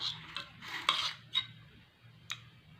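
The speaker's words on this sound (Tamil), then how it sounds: "இரும்பு கடாயில் கலந்து விட்டுருங்க" A spoon scrapes and taps against an iron kadai as a mixture is stirred, soft close scraping strokes with a few light metallic clicks, quiet and with no talking.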